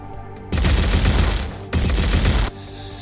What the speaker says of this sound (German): Und noch ein Schuss.